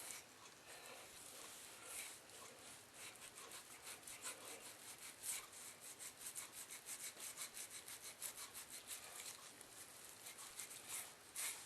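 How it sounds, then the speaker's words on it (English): A knife works steadily along a boned ham for tasso, slicing away the fat cap in a continuous rasping, rubbing rhythm of repeated strokes, close and fairly quiet, with no talking. "I want to trim the fat cap off"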